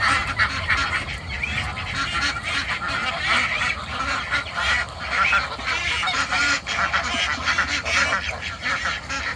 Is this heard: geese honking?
yes